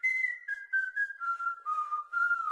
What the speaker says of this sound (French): Il se remet à siffler.